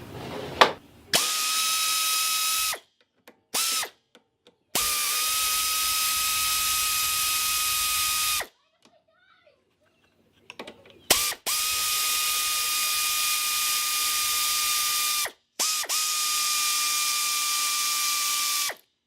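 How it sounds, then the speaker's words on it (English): Power tool whirring in bursts while backing out 10mm bolts on a Troy-Bilt self-propelled lawn mower, several sustained runs of steady motor whine separated by short pauses, loud and close with no talking. "we got three, looks like 10mm bolts that need to come out"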